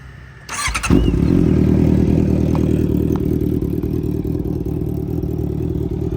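A Honda CBR650F motorcycle with a loud aftermarket exhaust starts with a sharp burst and settles into a loud, steady, throaty idle with a rough exhaust rumble, close by, no talking.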